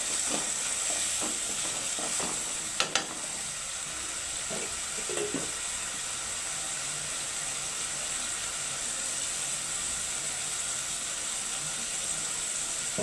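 Onions and green chillies sauté in a pan for a paneer gravy, a steady soft sizzle throughout with a few faint scrapes and clicks of stirring early on, no voices.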